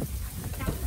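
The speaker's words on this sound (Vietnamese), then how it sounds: "Nghe tiếng xào xạc của mưa tuyết nó rơi xuống không?" Sleet falls onto the ground outdoors in a cold, icy setting in the United States, making a steady, dense hiss of fine crackling patter that fills the short moment.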